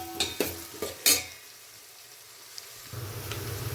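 Onion and curry leaves frying together in a pan for vegetable vermicelli upma: a few quick spatula clatters and scrapes, then a soft, steady sizzle that settles in low and continues with no talking.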